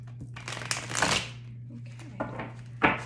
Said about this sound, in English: I'm going to go ahead and shuffle a couple more times on camera